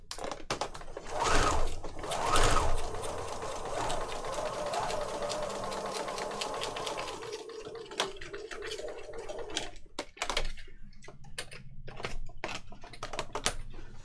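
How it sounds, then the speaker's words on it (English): A sewing machine stitches through a paper envelope for a file folder journal, a steady mechanical whirr with fast needle ticking for about eight seconds, then stopping, followed by scattered clicks and handling noises. "that's definitely adequate amount of sewing for one envelope"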